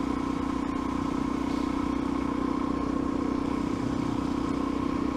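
A Suzuki DRZ motorcycle engine holds a steady, even drone throughout, a constant close hum with no revving or change in pitch.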